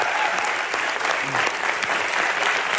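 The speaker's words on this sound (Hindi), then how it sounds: "जोरदार तालियां बनती हैं सर" Applause from a television comedy show studio audience, steady and fairly loud, a dense wash of clapping that carries through without a break.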